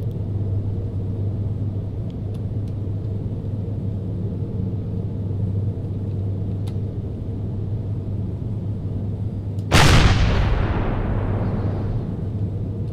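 A small gun fires once in Empyrion, a single sharp, loud blast with a decaying tail that cuts through a steady low mechanical hum after a long stretch of droning background.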